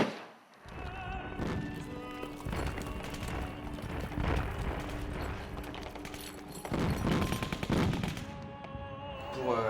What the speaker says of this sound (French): C'est pour obtenir l'explosion du compresseur en fait.